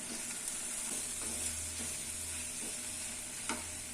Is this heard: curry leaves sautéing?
yes